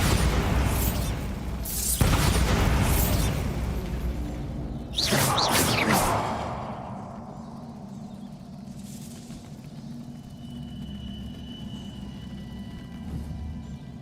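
A Bombarda blasting spell going off in the game Hogwarts Legacy, a loud booming burst with a whoosh followed by a second explosive crack, then rumbling debris fading under ambient game sound.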